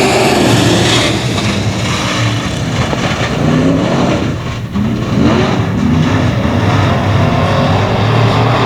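A pack of modified race cars at 281 Speedway roars off at the green flag of the Big Chill main event, a loud, continuous wall of engine noise with overlapping revving surges and no pauses.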